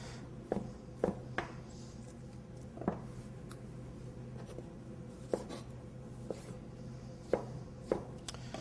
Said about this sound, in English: Some cherry heirloom tomatoes here, just going to halve them.